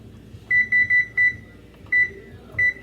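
An oven control panel beeps six times in short, bright tones, a quick run of four and then two spaced ones, while the oven is being set to preheat to 375 in a busy home kitchen.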